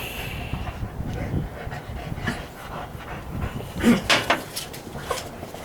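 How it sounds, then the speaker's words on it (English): Dogs pant rapidly and whimper nearby, a rhythmic breathy huffing with a few higher whines and yelps near the end, no speech over it. "These dogs are psycho"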